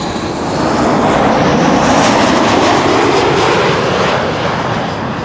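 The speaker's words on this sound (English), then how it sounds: "with the Iceland Air 757 approaching Schiphol, I'm going to stick around for it" An Icelandair Boeing 757 on approach to Amsterdam Schiphol Airport gives a loud, continuous jet engine roar with broadband rushing noise. The sound swells slightly and then holds steady throughout.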